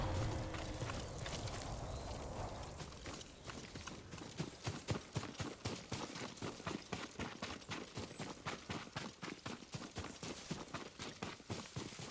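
Horse hooves clip-clopping in the samurai video game Ghost of Tsushima, a steady rapid run of close, loud hoofbeats that starts after a short stretch of ambient rumble and keeps a regular galloping rhythm to the end.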